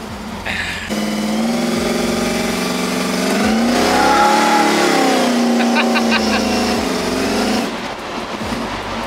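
Holden HQ ute engine revving as it drives off, rising through the gears with a strong close growl, steady and loud, with brief mechanical clicks near the end.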